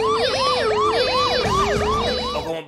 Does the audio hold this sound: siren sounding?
yes